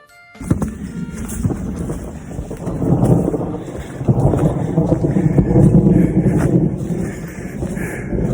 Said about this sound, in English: Sounds like a storm coming.